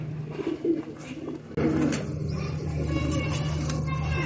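Teddy and Faqir-breed pigeons coo in low, repeated murmurs that continue throughout, with a louder, busier stretch partway in and some background noise mixed underneath.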